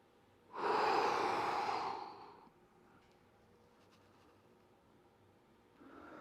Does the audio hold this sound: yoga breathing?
yes